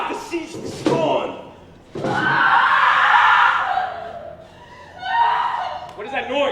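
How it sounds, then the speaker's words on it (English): Women cry out offstage during a high school stage production of Macbeth, a loud, sustained, wailing outcry that swells over several seconds after a sharp thud, then fades and rises again. "It's the cry of women"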